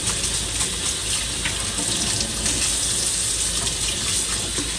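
Tap water runs steadily into a sink while meat is rinsed, a loud, close, continuous splashing gush with no breaks.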